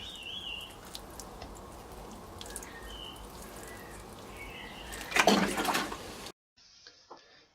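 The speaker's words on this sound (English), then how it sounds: "Water the compost" Water sprinkles and splashes steadily onto compost in which pansy seeds are sown, swelling into a louder pour near the end before stopping, with faint birdsong outdoors.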